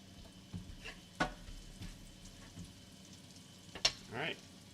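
Diced onions sizzle quietly in melted butter in a pan for a garlic Parmesan risotto, a soft, low steady frying hiss broken by a few light clicks and scrapes.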